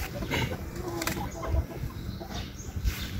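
Chickens cluck in a busy yard, with soft low thumps and some background voices mixed in.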